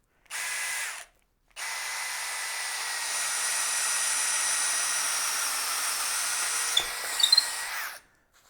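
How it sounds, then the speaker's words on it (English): A DeWalt 12V Xtreme hammer drill on speed 1 bores a new hole with a 3/4-inch Irwin speed bore bit, giving a brief whir, a pause, then a long steady loud drilling run that stops cleanly, with no talking. "no problem with the 3/4-inch Irwin speed bore on speed 1"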